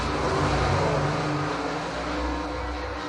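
Late model race cars running a heat race at Selinsgrove Speedway during the Appalachian Late Model Speedweek, heard as a steady, loud, continuous engine roar that fills the whole moment.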